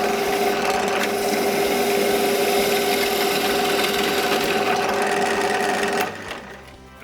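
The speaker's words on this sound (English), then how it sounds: "and then I'll drill from that side as well." A drill grinds steadily through a wooden pen blank for several seconds with a constant whining tone, then stops and winds down into quiet.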